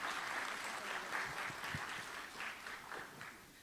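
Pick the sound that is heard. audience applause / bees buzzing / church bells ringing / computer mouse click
audience applause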